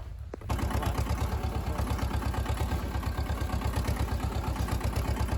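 A car engine runs at a steady mid pitch while driving over a rough rural dirt track between farm fields, its rapid even pulsing close and continuous after a brief quiet start.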